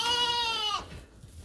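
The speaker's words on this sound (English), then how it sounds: "this is Lynn's pet sheep, Elsie, I think it's called." A pet ewe that has just lambed bleats once in a barn at night, a loud, close, wavering cry lasting under a second, followed by quiet rustling.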